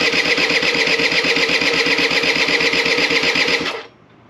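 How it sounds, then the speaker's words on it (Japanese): A Honda AF09 Super Tact scooter's starter cranks the engine without it catching, a loud, steady rapid churning that runs for nearly four seconds and then cuts off abruptly. "クランキングしてるけどエンジン動かねえ。"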